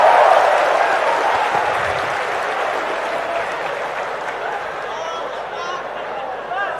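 An audience claps at an Indonesian university talk, the applause loudest at the start and slowly thinning, with a voice speaking over it.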